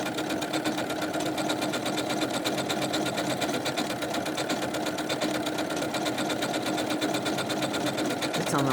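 A Janome Skyline S7 sewing machine runs decorative stitches, a fast steady mechanical whir and needle chatter holding at one even, close level throughout.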